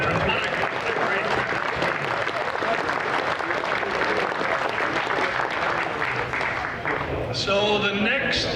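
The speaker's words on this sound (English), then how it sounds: "how about a round of applause for all of our veterans" Crowd applause from an audience at a fishing club's fall evening event, a dense, sustained clapping that fills the room for several seconds before briefly dipping and swelling again with a burst of cheering near the end.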